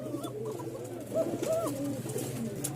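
Pigeons coo softly and close by in a loft, giving several rolling, throaty calls over a low steady background hum.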